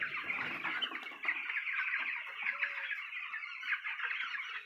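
Chickens cluck steadily and fairly close in a poultry farm shed, a dense continuous chorus of many birds with no talking.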